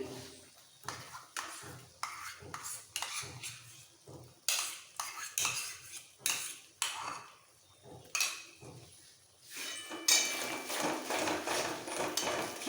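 A spoon whisks sour curd in a bowl, giving a series of quick, uneven metallic clinks and scrapes in short bursts, then a denser rattling flurry toward the end, close and fairly quiet.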